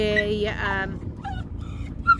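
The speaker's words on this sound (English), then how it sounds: "going to let the dogs off because they're whining" A dog whines in high, wavering whimpers, close by on a narrowboat, with a brief voiced tone at the start and a short yip near the end.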